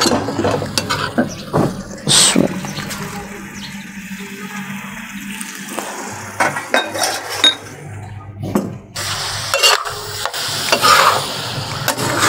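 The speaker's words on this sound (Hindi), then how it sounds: "अब फ्लेम थोड़ा सा जो है इसका हाई करेंगे ताकि इसकी बुनाई अच्छे से की जा सके" Minced meat (qeema) frying in a pan on a high flame while being stirred: a continuous sizzle with repeated scraping and clinking of a utensil against the pan, close and fairly loud, with no talk.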